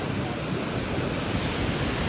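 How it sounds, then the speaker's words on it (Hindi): Swollen river rushing beneath Piri bridge in Kullu after days of steady rain, a loud, continuous broadband roar of fast water with no breaks, filling the whole scene close by. "क्यों तुम यहाँ पे नदी का फ्लो चेक कर सकते हो भाई"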